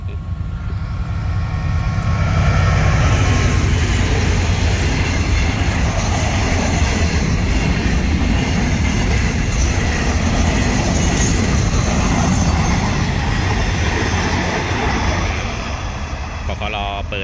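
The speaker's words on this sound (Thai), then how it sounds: "มาแล้วครับขบวนตองห้านะฮะ" Passenger train number 555, hauled by locomotive QSY 5207, rolls past on the line at Ban Nong Waeng Rai as a loud, steady rumble of wheels and cars that fills the whole span and eases slightly near the end.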